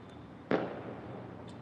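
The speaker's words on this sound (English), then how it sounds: "Everybody's doing fireworks this evening." A single distant firework bursts on a Crossover Night evening with a sharp, muffled boom. A soft crackling tail fades away over a quiet, low ambient hum.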